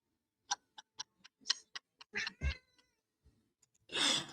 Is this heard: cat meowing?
yes